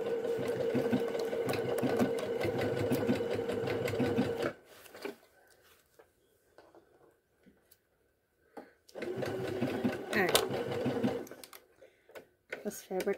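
A sewing machine stitches fabric in loud rapid whirring bursts, running about four seconds, stopping for a quiet gap with small handling clicks, then starting again briefly.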